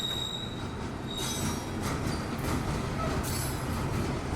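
A freight train passes close by, hauling empty scrap gondolas, tank cars and rock gondolas, with a continuous heavy rumble of wheels on rail and high metallic squeals rising and fading throughout.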